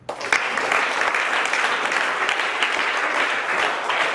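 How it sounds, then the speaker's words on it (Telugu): An audience at a public event gives a burst of loud, dense clapping that starts sharply and carries on steadily for a few seconds. "కానీ క్లాప్స్ ఇవ్వండి."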